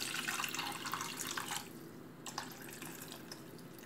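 Water poured over meat in a tajine, a steady close splashing stream that thins out partway through, then a few quieter trickles and drips.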